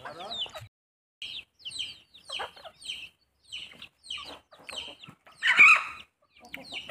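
Village chickens near a house veranda cluck in a string of short, separate bursts with brief silences between, close and moderately loud, with one busier squawk near the end.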